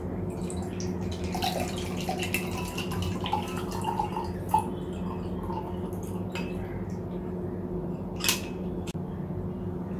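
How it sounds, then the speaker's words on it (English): Watermelon juice mixed with soda is poured into a glass, a soft, steady liquid trickle with a few light clinks of glass against a faint room hum. "Now I'm going to pour it in a glass."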